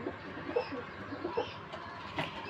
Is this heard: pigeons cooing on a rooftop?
yes